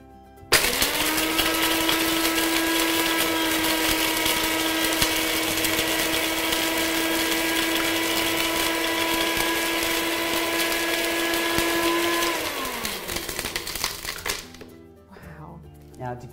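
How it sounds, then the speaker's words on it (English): A SMART Master Bullet SMB8000 mill grinds cinnamon and spices with a loud, steady motor whine that holds for about twelve seconds, then spins down into a few light rattles and clicks. "Pop it into the mill again."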